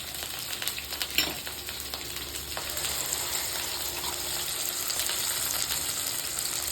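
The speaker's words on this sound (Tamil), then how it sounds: "தக்காளி நல்லா வதங்கிடுச்சு." Ground tomato paste sizzles and bubbles steadily in hot oil with onions in a pan for oily brinjal curry, close and continuous, with a stirring clatter early on and no talk.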